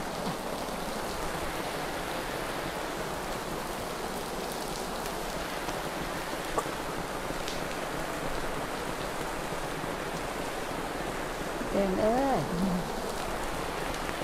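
Steady rain falls outdoors at a Buddhist ordination ceremony in a valley monastery, a continuous even hiss throughout, with a brief faint voice near the end.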